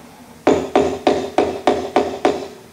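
Seven evenly spaced, sharp hammer blows ring out up close as a rivet is driven into soft wood while relining transmission bands on Engine 23, each strike loud and decaying quickly, with no talking.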